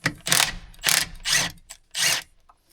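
A ratchet wrench works loose the 13 mm winch mount bolts on a Can-Am Outlander 700 ATV, giving four bursts of close, crisp clicking with short pauses between strokes.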